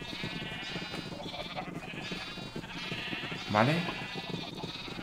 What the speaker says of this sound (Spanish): me falta solamente matar esta oveja en cuanto que crezca